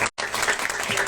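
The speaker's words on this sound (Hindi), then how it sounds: "और जोरदार इस पर ताली बजाओ भाई" Applause from a satsang congregation, a dense wash of clapping that breaks off for a moment and then returns strong and sustained, close and loud.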